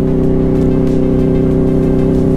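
A motorbike engine drones loudly and continuously while riding slowly on a mountain ghat road toward Kolhapur, a steady low rumble with no voices.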